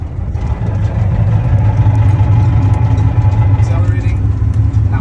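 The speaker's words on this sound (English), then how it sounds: "So if I'm accelerating and I let go, it starts grinding." A van on the road gives a steady, loud low rumble with a rough, grinding undertone near a tire when the accelerator is released, and engine noise persists throughout.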